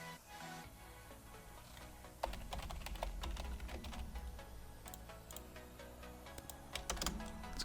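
Someone types on a computer keyboard while designing graphics in Photoshop, sending out crisp, fast clicks in bursts against a soft background of quiet music.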